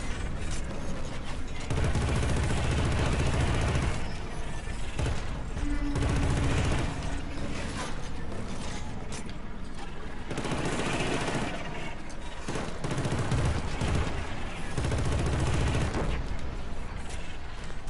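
Enemy gunfire in the shooter Killzone: Shadow Fall on planet Helghan pelts the player, dense bursts of automatic shots and mechanical clatter coming in loud waves across the whole stretch.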